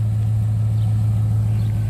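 A 2004 HSV Clubsport R8 manual sits idling with the air conditioning on, its engine giving a steady, deep, even burble close by, with no voices over it.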